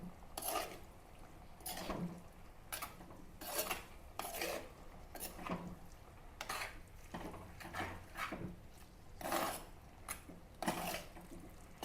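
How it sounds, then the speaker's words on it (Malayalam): Liver curry being stirred in a pan, with a spoon scraping and clinking against the metal in an irregular rhythm, soft and close, without talk. "നന്നായിട്ടൊന്ന് മിക്സ് ചെയ്യാം."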